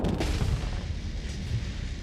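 Spaceship firing torpedoes in the Starsector video game, a heavy low thumping launch blast followed by a sustained deep rumbling roar, loud and close, with no voices.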